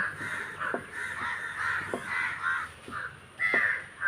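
Several crows in a flock caw repeatedly and raucously close by, their calls overlapping in uneven waves and broken by a few sharp clicks.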